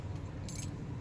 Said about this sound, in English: 2 new keys